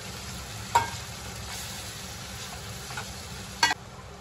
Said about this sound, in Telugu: ఇలా చికెన్ మొత్తం యాడ్ చేసి కలిపేసుకోవాలి